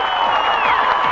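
A crowd at a 1998 Italy versus Lebanon rugby league match cheers in a dense, continuous roar, with distant shouts and whistles woven through it.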